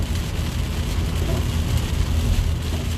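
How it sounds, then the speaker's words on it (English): Heavy rain falls in a continuous broadband roar, steady and fairly loud throughout, with a low rumble beneath and no clear speech. "The rain, it don't just come down like really heavy."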